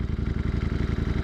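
Loud motorcycle of over 200 horsepower with an aftermarket exhaust, a rapid pulsing engine rumble held steady and close throughout a short burst.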